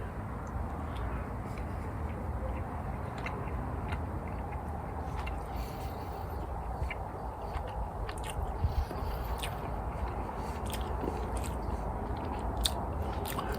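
Someone chewing a bite of smoked chuck roast cooked on a Weber kettle grill: soft, steady close-up mastication with occasional faint crunchy clicks, quiet and continuous, with no talking.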